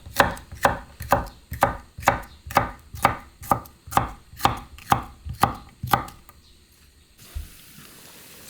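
Twelve quick, even knife strokes chop through vegetables such as bell pepper or carrot on a cutting board, each a sharp close thud, then the rhythm stops and a quiet lull follows with one soft knock.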